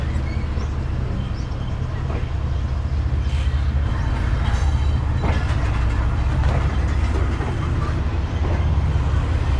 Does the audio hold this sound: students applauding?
no